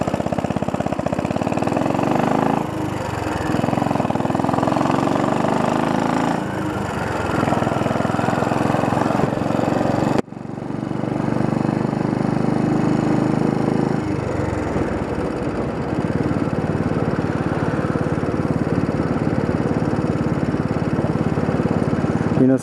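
A Royal Enfield motorcycle engine idles at a traffic light, a steady close mid-pitched thrum that cuts sharply midway and resumes, with wind and road noise.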